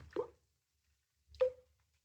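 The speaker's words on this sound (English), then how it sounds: "Someplace in the wall there was a drip." In a quiet room in a narrow Edinburgh street, a radio-drama effect of a drip inside the wall sounds as two soft, isolated plops about a second apart, surrounded by silence.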